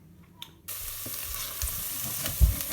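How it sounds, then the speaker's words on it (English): Onion frying in butter in a pan, a steady close sizzle that starts abruptly and keeps going, with a few soft utensil knocks and one louder clunk near the end. "Chuck the butter in a pan, wallop, then chuck the onion in."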